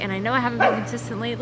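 A pet dog barks briefly indoors, a short sharp burst partway through, partly masked by a person talking steadily over it.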